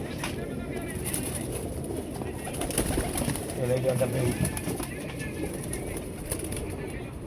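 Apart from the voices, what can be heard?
pigeon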